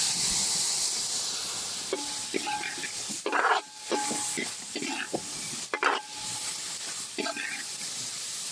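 Pepper-spiced mutton liver fry is stirred in a hot pan, village style, with a steady sizzle and hiss broken by scraping spoon strokes, close up while a person talks in between.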